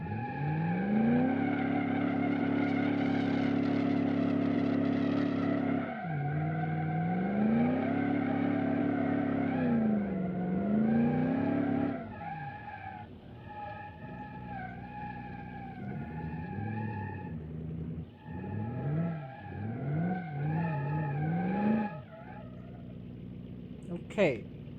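A car in the video game Automation, a 1950s-era model, races at high speed with no brakes, its engine droning loud and steady with pitch swells and dips as it shifts and slides, while a voice talks over it.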